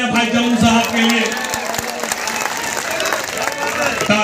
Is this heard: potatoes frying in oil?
no